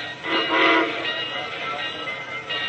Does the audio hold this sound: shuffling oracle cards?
no